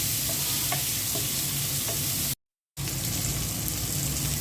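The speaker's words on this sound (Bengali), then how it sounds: "পেঁয়াজ আর টমেটোটা আগে ভেজে নেব।" Onion and tomato fry in leftover fish-frying oil, giving a steady, close sizzle and crackle with faint stirring, cut by a short silent gap partway through.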